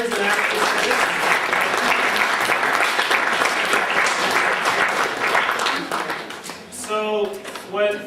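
An audience applauds its actors and actresses with loud, sustained clapping from many hands that tapers off near the end, when a voice begins speaking.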